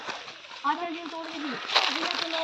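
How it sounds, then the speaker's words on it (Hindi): Splashing and sloshing water as a group wades through a river stream crossing a forest trail along the Mandakini River, close and continuous, with a voice and other people talking over it. "और यहाँ पर ये नदी की एक धारा निकल कर आ गई है।"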